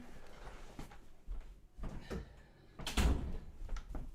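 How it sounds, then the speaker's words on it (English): A door is pushed shut indoors, with a few soft bumps and shuffles building to a louder closing thud and a brief rattle afterwards, fairly close by. "I'm going to close my door."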